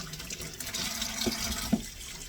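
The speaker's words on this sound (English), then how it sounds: "Let's wash the cucumbers and set those aside as well." Cucumbers washed under a running kitchen tap, a steady splashing stream of water with a couple of soft knocks as the vegetables are handled, close and fairly quiet.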